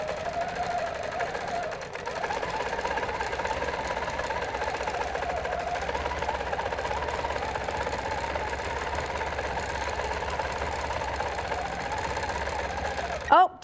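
A sewing machine quilting with a 360 Wonderfoot hopping foot, a steady, continuous mechanical whirring and rapid rhythmic chatter running throughout, close and even in level, ending with a brief clunk.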